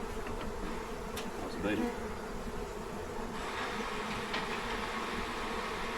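Honeybees cluster in a hive, making a steady close buzzing hum, with a short remark spoken over it.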